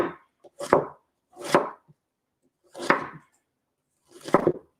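Onion being chopped with a knife on a board, five distinct close chops spaced unevenly with silent gaps between them.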